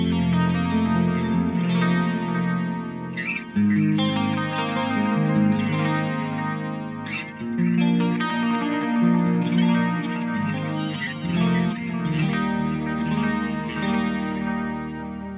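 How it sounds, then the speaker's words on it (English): A budget electric guitar rig on its clean channel, with chorus and delay pedals engaged, plays a flowing chord and note passage. The tone is shimmering and full, with echoing repeats trailing each phrase, heard alone without talking. "let's hear the clean channel with the chorus and the delay pedal engaged as well"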